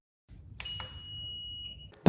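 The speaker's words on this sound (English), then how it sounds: "The motorcycle will beep 1 time after each successful entry." A Honda Goldwing motorcycle gives a single clear electronic beep to confirm a code entry during its emergency start procedure, preceded by soft clicks and ending in a sharp thump.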